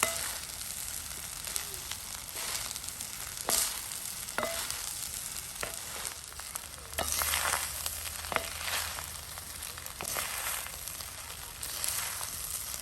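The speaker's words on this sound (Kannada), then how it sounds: "ಮಿಕ್ಸ್ ಮಾಡಲಿಕ್ಕೆ ನಾನು ಎರಡು ಸ್ಪೂನನ್ನು ಯೂಸ್ ಮಾಡ್ತಾ ಇದ್ದೇನೆ" Egg rice with coriander being mixed with two spoons in a hot pan, steady soft sizzling under repeated light scraping and tapping of spoon against metal, close and alone.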